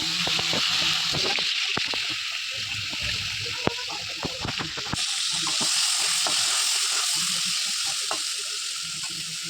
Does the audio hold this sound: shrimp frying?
yes